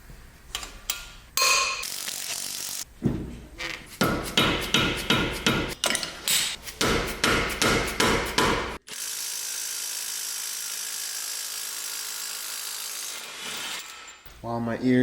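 A hammer staking a part on a BMW E30 lands a quick run of sharp metallic blows, some single and some in rapid clusters, followed by a long, steady, loud mechanical whir; no talking.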